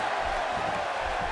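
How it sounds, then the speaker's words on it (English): A wrestling event crowd roars in a dense, continuous wash of cheering that fills the space at an even loudness for a brief moment. "You can hear this crowd."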